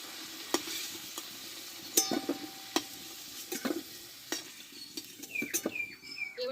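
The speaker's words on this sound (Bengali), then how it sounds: "এবার তেল থেকে আমি আলুগুলোকে তুলে নেবো" Fried potatoes are scooped out of hot oil in a village kitchen, with a soft sizzle beneath sharp metal scrapes and clinks from the utensil, spaced irregularly and fairly quiet.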